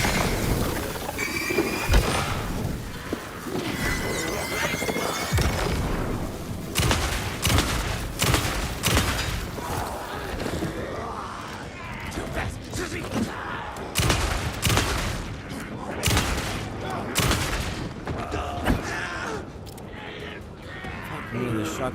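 Shotgun blasts in Alan Wake 2: a series of loud, separate bangs spaced a second or two apart through a long combat stretch, with someone talking and shouting between shots.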